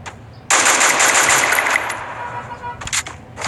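Video game gunfire opens with a sudden, loud automatic burst that rattles for about a second and a half, then tails off into scattered shots while players talk over it.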